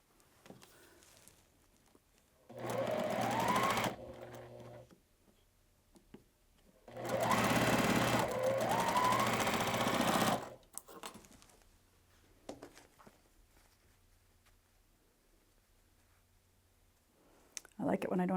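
Sewing machine stitching quilt block pieces together: two fast, steady whirring bursts of a few seconds each, close by, separated by quiet handling sounds, with someone talking softly in the pauses.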